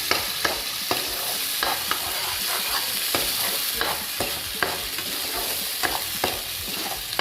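Cashew nuts, onion, ginger and garlic fry in a pan, a steady loud sizzle broken by repeated sharp clicks of a spatula stirring and scraping, with no talking.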